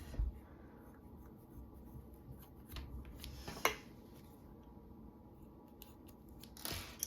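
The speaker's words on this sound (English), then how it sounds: "you can cut the excess off" Scissors snip excess yarn from a crocheted beanie in a quiet room, with a few faint cuts and soft rustles and one sharper snip near the middle.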